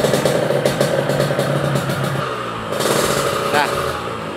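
A Yamaha RX-King motorcycle idling nearby through an aftermarket exhaust, a loud, throbbing exhaust rumble and clattery mechanical pulses, briefly revving near the end.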